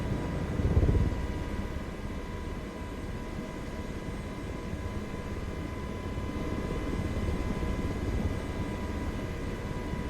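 A helicopter flies in Microsoft Flight Simulator 2024 over Yellowstone, giving a steady droning engine and rotor hum with a constant whine, loudest just at the start and then holding level throughout, with no talk.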